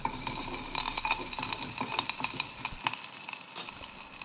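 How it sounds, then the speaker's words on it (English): Onion and curry leaves sizzle in a pan for an Indian rasam soup, a steady crackling fry with light stirring clatter, fairly quiet and without talk. "Let the onion fry a little bit and add the curry leaves"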